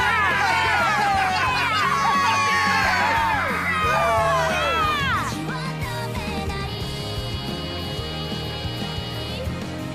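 Cheering crowd with whoops and yells, loud and sustained, rising pitched shouts over a dense roar that thins slightly midway while a steady tone enters.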